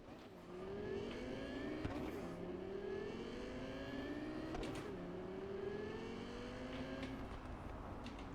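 A car driven through Cyberpunk 2077 gives a steady engine drone with rising and falling pitch as it shifts and accelerates, moderately loud and continuous, with no talking.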